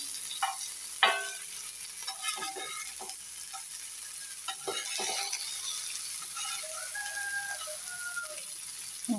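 Fish frying in a pan as the pieces are turned, a continuous sizzle with scattered clinks and scrapes of a spatula, and a faint rooster crowing now and then in the background.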